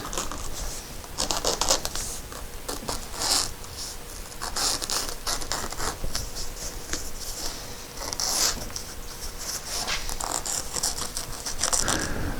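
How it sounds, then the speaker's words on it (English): Scissors or a blade trimming excess fabric from a VW GTI car headliner, heard as repeated close rasping cuts and scratchy tearing strokes in irregular bursts. "we're going to trim this around the outside and get all this excess off"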